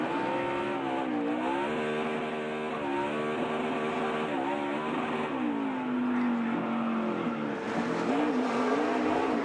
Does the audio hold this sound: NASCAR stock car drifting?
yes